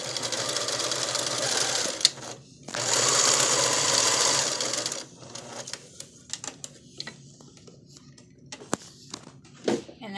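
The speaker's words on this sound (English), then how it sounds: "Now what I'm going to do is take good sides together and sew right here." A sewing machine runs in two loud, steady bursts of rapid mechanical stitching on fabric, separated by a short pause, followed by quieter clicks and handling noises.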